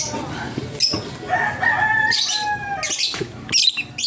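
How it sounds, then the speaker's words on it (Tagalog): Chickens cluck and call close by, including a hen, with bursts of squawking and some background noise in a rural yard. "Ayan po yung hen."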